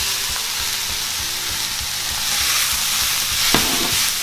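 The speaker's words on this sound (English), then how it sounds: "We're just going to let the onion fry a little bit, then we're going to add the bacon" Bacon and onion fry in a skillet, giving a steady, close sizzle and crackle with small stirring scrapes and one sharper clack near the end, no voices.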